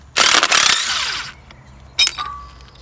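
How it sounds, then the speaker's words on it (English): Power tool whirring and rattling while a power steering pump is taken off a wrecked Jeep Rubicon, a loud burst lasting about a second, then a brief metallic clink and a lingering faint ring. "Next, we're going to remove this power steering pump."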